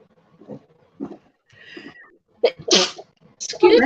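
A single close, loud human sneeze bursts out near the end, preceded by a few quiet vocal sounds and breaths.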